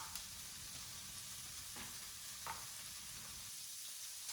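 Ham and about four halved tomatoes sizzle in a frying pan for an omelette breakfast, a steady close crackle with a couple of brief stirring scrapes and no talking.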